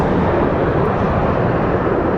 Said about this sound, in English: So up next is Delta 733 headed to Atlanta